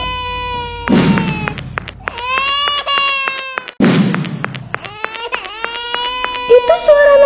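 An infant wails loudly in long, strained bursts, breaking off with gasps before crying again, close and piercing with a couple of thuds between cries.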